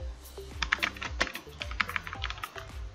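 Fingers type quickly on a computer keyboard, a close, quiet run of irregular clicks and key taps with small pauses, alone with no voices.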